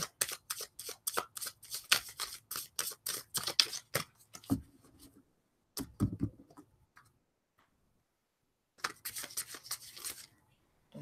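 Rapid riffling bursts of a new tarot deck being shuffled, a quick rhythmic run, then a few scattered taps and soft sounds, a pause, and another shuffling burst.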